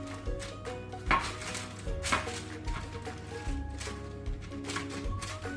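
Cookie dough scooped onto greaseproof paper with an ice cream scoop: repeated metallic scrapes and soft knocks against a tray in an uneven rhythm, close and fairly loud over a low steady hum.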